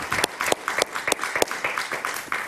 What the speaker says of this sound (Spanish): Un aplauso para Leo Felipe Campos